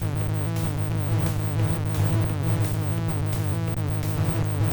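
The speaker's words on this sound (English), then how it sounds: "Sounds like a bee buzzing in my ear." A steady bee-like electronic buzz drones through the whole stretch in the Sega Genesis game Shadowrun, with layered harmonic hum and rhythmic pulses, loud and constant without talk.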